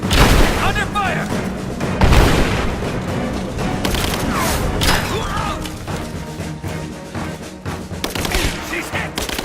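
Gunfire in Rise of the Tomb Raider: repeated loud bursts and booming shots crackle through a tense firefight, with a voice calling out amid the shooting.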